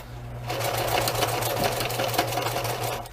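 A sewing machine runs steadily, stitching the hem of a folded cloth dish towel, with a continuous close whirring motor and rapid needle rhythm for about three seconds, starting after a brief quiet moment.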